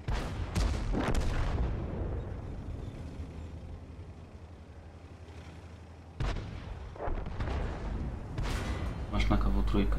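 Tank cannon shots in the World of Tanks video game, heavy booming blasts with long rumbling decay, two main bursts separated by several seconds, with a voice talking over the game sound.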